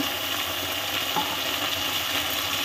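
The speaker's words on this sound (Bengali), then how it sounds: "একটু জল দিয়ে দিই যাতে মশলাটা পোড়া না লাগে।" Spice masala with green chillies frying and being stirred in a pan after a splash of water, a dense continuous sizzle with faint scraping of the spoon throughout.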